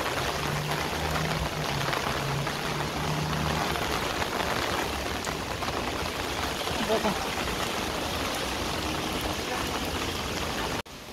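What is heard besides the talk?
heavy rain with flowing water and wind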